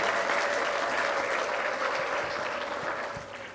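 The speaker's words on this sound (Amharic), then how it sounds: "ለዚህ ጌታ እልልታና ጭብጨባ ያለው ሰው" A church congregation at a wedding reception breaks into applause, dense clapping with a high sustained ululation running through it, slowly fading toward the end.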